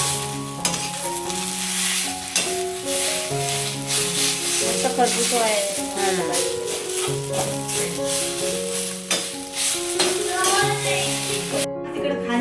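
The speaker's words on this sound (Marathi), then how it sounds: "अशा छान आपल्याला भाजून घ्यायच्या आहेत शिजल्या पाहिजेत काय मिरच्या आतून शिजल्या पाहिजेत ना करपवायच्या नाहीत" Green chillies roast and sizzle in a pan for Khandeshi thecha, a steady close frying hiss with occasional stirring scrapes, set against a tonal, melodic background sound throughout.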